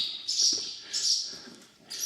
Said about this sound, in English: difficult to use with all the swallows and birds here